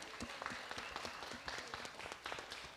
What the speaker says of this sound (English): So I just want to give a round of applause for everybody who's helped set this up